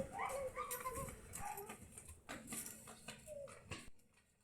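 A pet dog pestering its owner beside a motorcycle under repair, making soft whimpers and small yelps amid faint shuffling and clatter, nearby but fairly quiet.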